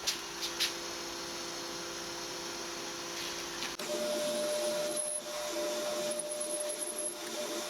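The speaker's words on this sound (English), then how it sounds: "I think I'll drill a hole up in here for the 6mm tap" A steady whirring drill grinds into metal, drilling a pilot hole for a 6mm tap on a homemade rotary table, its pitch shifting partway through as the bit bites, with a few light clicks at the start.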